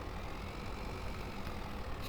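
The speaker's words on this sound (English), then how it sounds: "This tractor's struggling to get in there." Video-game tractor engine straining under load, a steady low droning rumble at moderate volume with no breaks.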